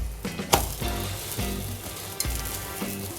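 A masala omelette sizzles and fries in a pan as it is flipped, with steady crackling frying and a few sharp spatula knocks and scrapes against the pan.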